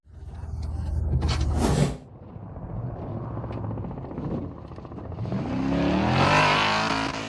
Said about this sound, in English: The off-road buggy pushed hard on the throttle to climb over the steep dirt trench